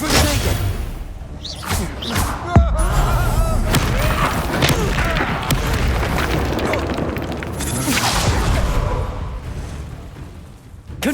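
Confringo blasting spells erupt in Hogwarts Legacy combat, a dense run of booming explosive hits and whooshes with a sharp crack near the start and another burst late on, loud and continuous over busy game effects.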